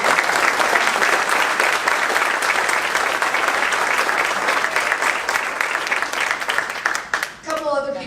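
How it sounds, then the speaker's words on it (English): A crowd at an association board event gives a loud, sustained round of applause for volunteers, and it fades as a voice begins speaking at the end. "So I really want to give a big round of applause to all of our volunteers."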